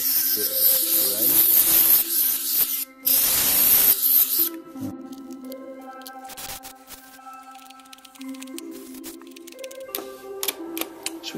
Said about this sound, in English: So we'll just give it a bit of a spray.